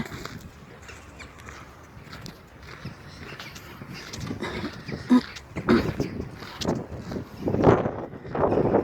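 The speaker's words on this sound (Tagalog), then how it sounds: "Ayan, humahangin" Wind blows outdoors in Ängelholm, Sweden, near the hospital, a continuous low buffeting rumble across the microphone that swells and gusts louder in the second half.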